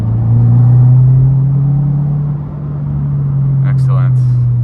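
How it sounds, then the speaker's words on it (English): Engine of a 2022 Subaru WRX on H&R lowering springs pulling in third gear under boost, a steady loud low drone holding throughout with a brief dip midway, and a faint high chirp near the end. "Alright, third gear, let's give it some boost."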